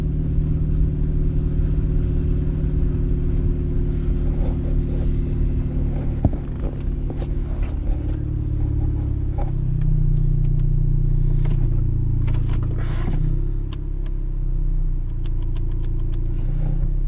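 A Chevrolet S10 Baja plow truck's engine rumbles steadily while pushing snow, a loud continuous low drone that deepens and strains around the middle, with faint clinks and knocks from the plow on top.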